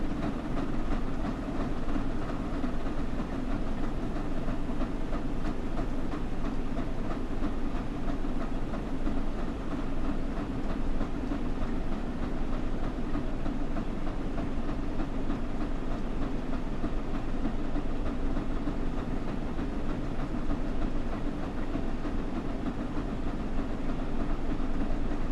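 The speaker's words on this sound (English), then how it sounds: "Now we're picking up speed." Flying Scotsman steam locomotive gathering speed on a London Victoria to Brighton run, heard as a steady, loud rolling rumble of train wheels and carriages with faint rhythmic clatter, continuous throughout and with no talking.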